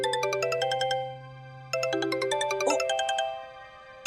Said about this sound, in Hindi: किस सोसाइटी के मित्र मंडल का फोन बज रहा है